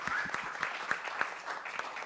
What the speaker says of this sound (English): another round of applause for our...